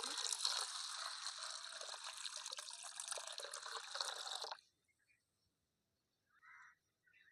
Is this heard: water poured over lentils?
yes